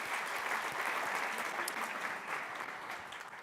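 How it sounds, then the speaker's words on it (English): An audience at a healthcare research collaborative summit welcome session claps in steady, dense applause, fairly quiet and uniform throughout with no voices on top. "Give yourselves a round of applause"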